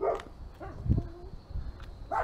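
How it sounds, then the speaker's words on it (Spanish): A few scattered dog barks and yips at a moderate distance, spaced irregularly over a low background rumble. "los perros están ladrando, cachá"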